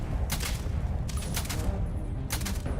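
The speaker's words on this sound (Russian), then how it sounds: "давай попробуем с ВСС пострелять" A VSS rifle fires in the video game Starfield: several quick clusters of close, loud shots in irregular bursts over a dense rumbling background.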